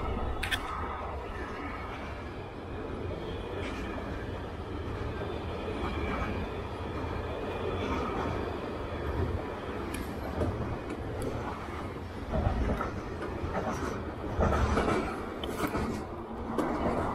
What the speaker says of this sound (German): Wieder Zug in Doppeltraktion.